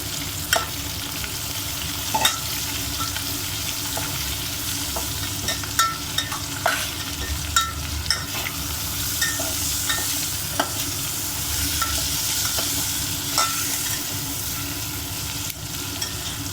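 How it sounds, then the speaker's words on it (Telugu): Poha, tomatoes and turmeric are stirred in a frying pan, producing a continuous close sizzle with frequent scraping and tapping strokes of the spoon against the pan, with no talk. "ఇప్పుడు పసుపు కూడా వేసుకుందాము. కలిపేసుకుందామండి."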